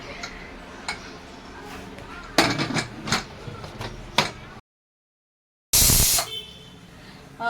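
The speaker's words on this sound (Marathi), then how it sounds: "आता कुकरचं झाकण वगैरे लावून घेते" Metallic clanks and clicks of a pressure cooker lid being handled and fitted over mutton, several sharp knocks followed by a brief gap and a harsher rattle, with some talking.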